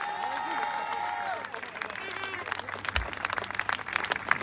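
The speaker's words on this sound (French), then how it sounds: "on peut faire un tonnerre d'applaudissements à Myriam" Rally crowd at a Les Patriotes event bursts into dense, loud applause for a speaker, with a voice talking over it at first before the clapping swells.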